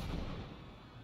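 Gunfire from the game Papers Please: a short burst of low, muffled shots, fairly quiet and dense, with no talking.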